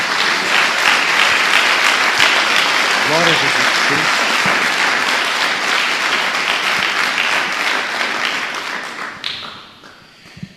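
A church congregation breaks into sustained, loud, dense applause that fills the room for several seconds, with a voice calling out over it, before the clapping fades away near the end.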